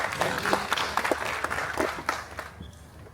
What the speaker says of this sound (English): Ladies and gentlemen, take one of applause for the wonderful company